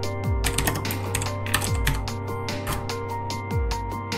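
Fast typing on a computer keyboard, with crisp key clicks in irregular bursts close up, a few heavier thumps mixed in, and a steady low hum underneath.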